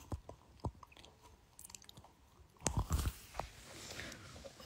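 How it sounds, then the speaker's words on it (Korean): Someone eating a peach along with a meal at home, with soft, close chewing and wet bites that grow louder and crunchier partway through, with no talking. "밥 먹으면서 복숭아 먹어봐."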